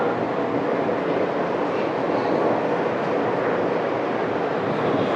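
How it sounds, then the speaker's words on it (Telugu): A diesel locomotive at a railway station platform rumbles with a steady, loud, broadband roar that holds unbroken from start to finish. "డీజిల్లోకో"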